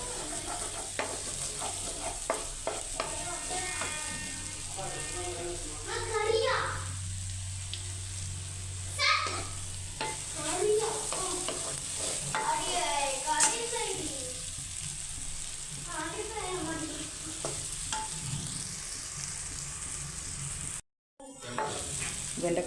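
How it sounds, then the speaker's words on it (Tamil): Sliced okra fries in oil in a pan with a constant sizzle while a spoon stirs it in repeated scraping strokes, and a brief cut near the end. "வெண்டைக்காய் பொரி ரெடி ஆகிடுச்சு"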